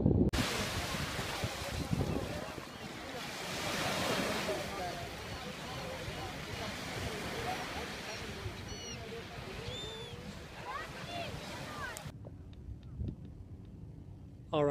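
Ocean waves and gusting wind at South Beach, Miami, a continuous loud wash of surf with wind buffeting the microphone, then dropping abruptly to near quiet at the end.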